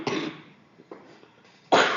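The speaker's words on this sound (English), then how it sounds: "I do apologize for my cough." A woman coughs sharply at the start and again at the end, two strong close bursts separated by quieter breathing and small throat sounds.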